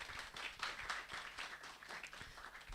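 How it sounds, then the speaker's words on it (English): Conference audience applause after a welcoming speech, a soft, even wash of many hands clapping in a hall, faint and steady throughout. "Please give a big round of applause."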